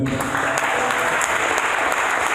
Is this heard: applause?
yes